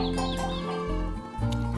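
Hens cluck in short, close bursts over a busy, musical background, with a few soft peeps mixed in.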